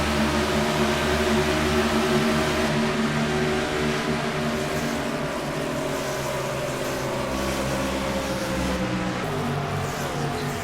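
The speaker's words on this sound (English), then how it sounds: "See, you hear Ed pedaling the gas there through the turn." A loud race car engine drones and revs continuously through a turn, the pitch shifting as the throttle is worked, with steady mechanical roar throughout.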